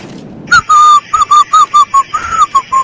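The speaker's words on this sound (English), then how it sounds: "Stop whistling, that's annoying" A person whistles a short tune close up and loudly, a string of clear, steady notes in choppy bursts after a brief pause, with no talking over it.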